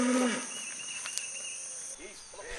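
A Belgian Blue cow lets out one short, low moo at the start, followed by quieter farm ambience with a steady insect chirr in the background.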